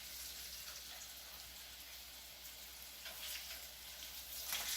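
Battered green tomatoes frying in a pan, a steady close crackling sizzle that swells slightly louder near the end, with no voices.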